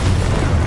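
The explosive blast of a Confringo spell in a wizard game, a loud, close, dense boom that fills the whole short moment with a low rumbling burst.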